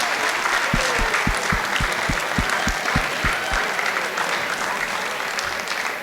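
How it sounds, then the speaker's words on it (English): A school assembly audience applauds guest speakers at a safe-driving event, a steady, dense wash of clapping that holds for the whole stretch and fades a little toward the end, with a few low thumps near the start. "What we need to do is give a huge round of applause to Dr."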